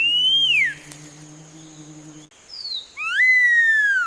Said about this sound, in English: vocalizations from Jaguarundis, including whistles, chirps, purrs, chatter-like sounds, and other calls